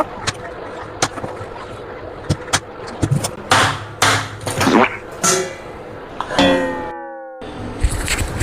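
A knife cuts the nails off chicken feet, giving a series of sharp, irregular chopping knocks against a board, fairly close, with a short silent gap near the end.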